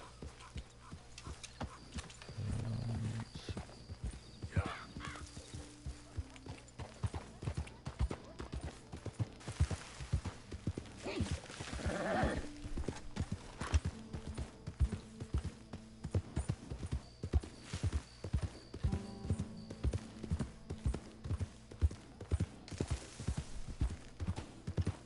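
Horse hooves clip-clop steadily in a video game, a close, regular rhythm of hoofbeats running throughout with a few louder game sound effects layered over it.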